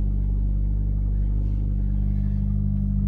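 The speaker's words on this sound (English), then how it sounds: "This car is so much fun to drive, and the clutch is very smooth" A 2004 Ford Focus SVT with a six-speed manual gearbox drives steadily, its engine a loud, even low rumble heard from inside the car with no other sounds.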